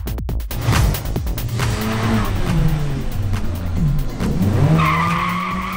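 Nissan Sentra B13 in a quarter-mile drag race final, with tires squealing at launch and an engine revving through rising gear pulls, loud and close with a sharp whine near the end.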